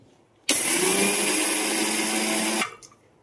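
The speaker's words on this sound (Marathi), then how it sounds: "हे मिक्सर मधून आता बारीक करून घ्यायचे" A mixer grinder starts abruptly and runs at a loud, steady whine while grinding fenugreek seeds for about two seconds, then cuts off and winds down into near silence.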